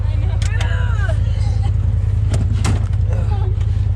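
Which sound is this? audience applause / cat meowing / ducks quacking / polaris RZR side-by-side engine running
polaris RZR side-by-side engine running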